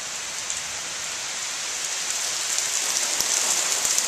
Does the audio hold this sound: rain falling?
yes